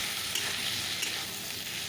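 Fish curry broth poured onto fried spices in a hot pan, a steady close hissing sizzle that holds evenly throughout the short stretch, with no voices.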